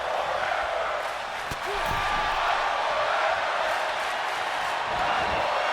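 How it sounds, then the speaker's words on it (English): Arena crowd noise in a wrestling video game during an Openweight Championship match involving Cedric Alexander, a steady roar of massed voices with a brief dip partway through, loud and continuous throughout, with no distinct chant standing out. "Crowd chanting fight forever."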